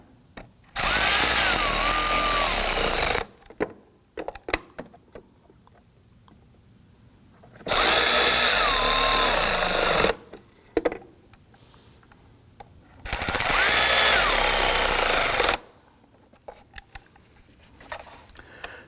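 A power tool drives screws into the air filter lid of a 2003-2014 Volvo XC90 in three loud whirring bursts of a few seconds each, with quiet handling clicks between them.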